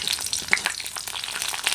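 Three slit green chillies fry in hot oil for a thin tilapia curry, making a steady close crackling sizzle with light stirring noises throughout.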